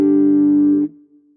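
Guitar through a Fractal unit's wah driven by a stock ADSR envelope: one sustained distorted note that holds for under a second, then drops away quickly with a faint ringing tail, no talk.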